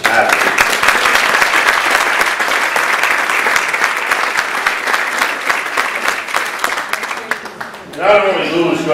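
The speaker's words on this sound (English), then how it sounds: "So let's have a big round of applause for all these athletes." Audience applause for athletes at a senior sports event, steady crowd clapping that fills the room before tapering off, with a voice starting to speak near the end.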